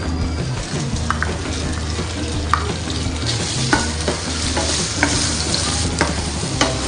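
Small pieces of tofu fry in leftover pork fat in a pan, giving a loud, steady sizzle with occasional clicks and light taps from a utensil.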